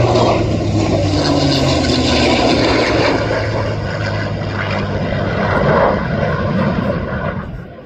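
An F-35A Lightning II jet roars loudly and steadily at an airshow in Shellharbour, the powerful engine rumble holding close and strong before easing off slightly toward the end.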